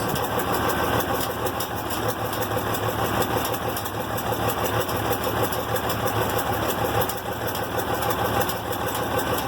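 IH Farmall 706 tractor engine with a new carburetor idling steadily and loudly nearby, a continuous even rumble with a light clinking, clacking rhythm running through the whole stretch, no voices.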